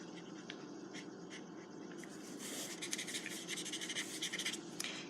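Colored pencil rubbing and scratching across dark cardboard, a steady close scratchy stroking that grows denser and brisker in the second half, with no talk.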